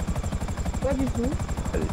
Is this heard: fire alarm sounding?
no